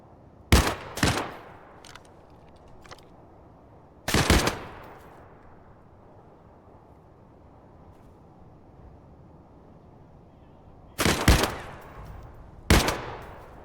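Video game gun firing in short separate bursts: two quick loud shots, a single blast, then another pair of shots near the end, with quiet stretches between and no talk.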